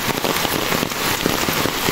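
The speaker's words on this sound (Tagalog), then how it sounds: "Lakas ng ulan, no?" Heavy tropical rain pouring down during a storm, a loud continuous hiss and patter of drops hitting surfaces close by, with no voices.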